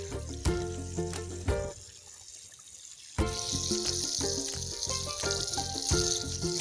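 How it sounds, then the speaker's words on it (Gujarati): Steady rushing irrigation water flows continuously into a mustard field, loud and close, with a brief quieter dip before the flow surges back strongly. "પાણી તો આપણે ચાલુ કરી દીધું"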